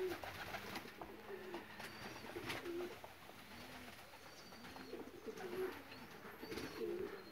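Pigeons cooing in a Romanian pigeon loft, repeated soft rolling coos in an irregular rhythm, fairly close, over a faint background of other bird chirps.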